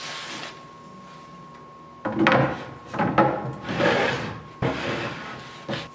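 Wooden boards for a roll top desk scrape and slide into their guides in several separate rubbing strokes, close up, with brief pauses between them.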